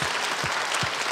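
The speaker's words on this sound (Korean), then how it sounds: "하나님께 우리 감사의 박수를 들려주십시다" Church congregation clapping together at a New Year's first Sunday worship service, a steady dense wash of applause filling the whole moment with no talk.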